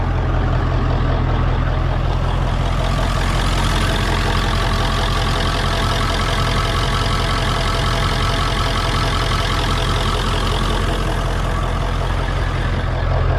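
A 7.3 Powerstroke diesel truck engine idles loud and close, a steady heavy rumble with a constant diesel clatter and no change in pace.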